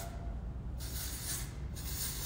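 Dry shampoo texture spray misted onto hair during a razor-cut short layered bob, heard as two short, close hissing bursts with a brief gap between them.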